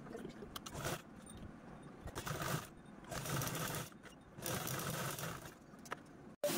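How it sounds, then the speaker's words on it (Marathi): A sewing machine stitches a second pocket onto a men's wallet made from old jeans, its motor running in steady bursts with short pauses between runs, fairly close and without talk. "हे पण आपण अशा पद्धतीने स्टिच करून घेऊया"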